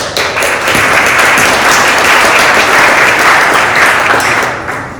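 An audience at a youth entrepreneurship challenge event gives a dense, sustained round of applause that stays loud and even for several seconds before tapering at the end.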